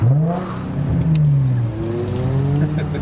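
Lamborghini Gallardo Balboni at a car meet, its engine revving up and easing back, loud and close, then settling into a steady higher drone as it moves off.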